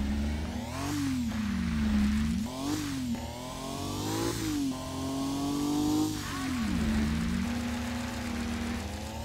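Racing car engine in the Kaido Racer video game revving continuously, pitch sweeping up and down through gear shifts as the car nearly spins out, loud and steady with no talk.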